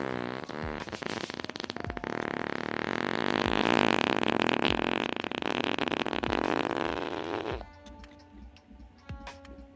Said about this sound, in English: A mega fart is coming.